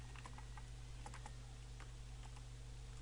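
Computer keyboard typing PHP code, faint irregular key clicks in short bursts under a steady loud electrical hum, with no voices.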